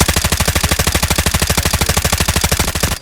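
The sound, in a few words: gunfire in video game Delta Force Mobile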